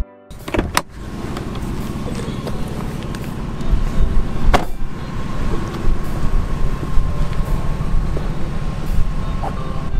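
A barn-find Lexus, long unused, idles with its engine left running, a steady low hum that holds near and fairly loud through the whole stretch after a brief knock at the start, with no talk over it.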